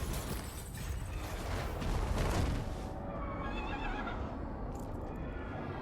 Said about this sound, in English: And Yusuf got himself a horse.